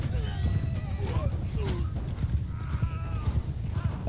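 Cavalry horses gallop in the video game Bannerlord with steady clip-clop hoofbeats and scattered mechanical clatter, all sitting under battle noise while a voice talks over part of it.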